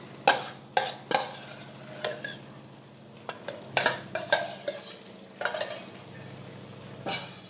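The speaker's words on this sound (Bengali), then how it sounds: "মটরগুলো মশলার সাথে ভালোভাবে কষিয়ে নিয়েছি, এবার ওতে আলুগুলি দিয়ে দেব। এই যে ভেজে রাখা আলুগুলো ওতে দিয়ে দিচ্ছি।" Fried potatoes tipped into a pan of peas cooked down with spices for aloo motor ghugni, then stirred with a spatula, giving repeated sharp scrapes and clinks against the pan over a soft sizzle.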